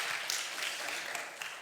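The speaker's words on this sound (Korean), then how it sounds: "우리 인도네시아 아울리치 팀을 위해서 한 번 더 우리 박수하면 좋겠습니다" A church congregation at a young adults' Sunday worship service applauds, giving a soft, steady wash of many hands clapping that sounds distant and fairly faint throughout.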